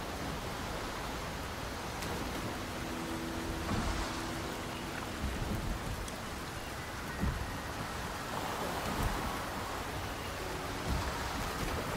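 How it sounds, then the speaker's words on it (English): Rain falls across an outdoor scene in the video game Wuthering Waves, a constant soft hiss of drops with faint low rumbles rising now and then, steady and unbroken with no voices. "rain is subsiding, and the sky will soon clear"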